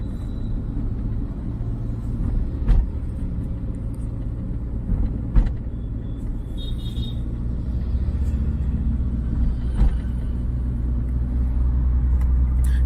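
A car's engine pulls uphill during a driving lesson, a steady low rumble and road noise heard from inside the cabin with a few faint knocks and no shifting.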